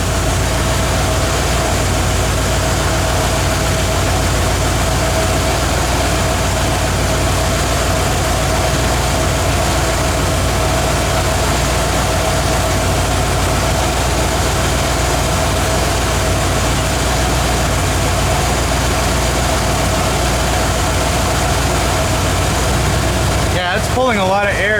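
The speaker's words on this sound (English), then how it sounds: "it's pulling a lot of air just idling." A junkyard truck engine that runs hot idles loudly and steadily with a deep, constant rumble and fan-like air rush, unbroken until a short clunk at the very end.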